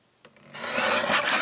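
Paper trimmed for papercraft card making: a short, close rasping cut begins faintly and builds into a steady scraping stroke lasting about a second.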